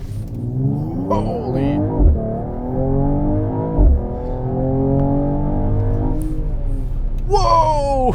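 A 2019 Mercedes-AMG E 53 4matic+ Coupé in sport mode launches from 0 to 100, its engine climbing through rising revs with two brief gear-shift thumps, loud inside the cabin, ending in a short exclamation.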